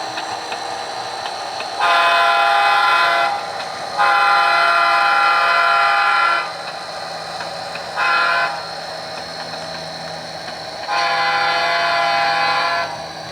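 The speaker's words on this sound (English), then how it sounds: "we're going to blow the horn here in a minute to come up the street, but let's watch this fine locomotive run by over here" Model railroad locomotive running past on a switching layout, sounding its horn in four long blasts with short gaps, loud and steady over a low running rumble.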